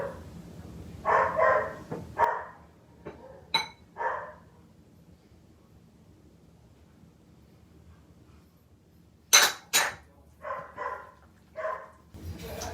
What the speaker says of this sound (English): I hear that dog, that's my dog barking.